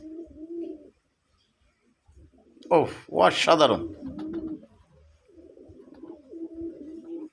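A big, high-energy desi red pigeon cooing from a perch on someone's hand gives long, deep, resonant calls in a loud burst mid-clip, with quieter murmurs around it and someone speaking briefly.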